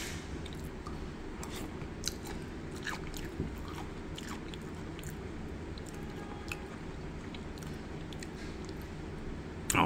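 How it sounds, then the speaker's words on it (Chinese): Quiet chewing and soft crunching of pickled mustard greens eaten with beef noodle soup, with faint wet clicks over a steady low background hum. "我试试看它的酸菜。"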